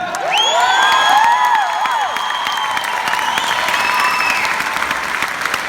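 A crowd at a Kadim Al Sahir concert in Denmark in 2016 applauds the Iraqi band, with dense, loud, sustained clapping, whistles and cheers throughout.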